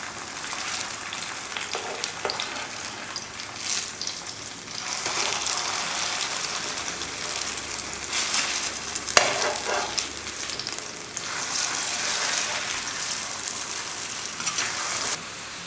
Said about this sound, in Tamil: ஒரு 2 நிமிஷத்துக்கிட்ட இது போல் வறுத்துக்கிட்டால் போதும்